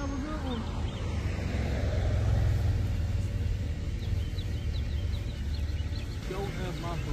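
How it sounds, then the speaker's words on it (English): A loud truck engine idles outdoors on a hot day, a steady low rumble that fills the whole stretch with faint wind noise over it. "Your truck is very loud."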